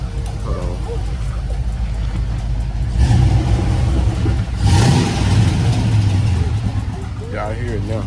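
A 5.3 LS swap engine revs hard with loud popping bursts, close and steady, swelling twice before settling back to a rough rumble, with a voice talking faintly over it.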